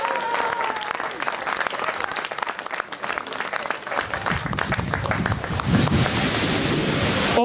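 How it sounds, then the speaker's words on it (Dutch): A crowd at a Dutch national cyclocross championship podium ceremony for youth girls claps steadily and loudly, a dense wash of applause that swells toward the end, with a voice faintly present underneath. "Een geweldig applaus voor Julia Bosker."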